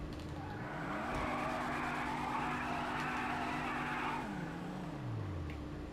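Sustained engine roar and screeching tire squeal from a racing video game car, loud and continuous, the engine pitch sliding up and down through shifts as the tires skid.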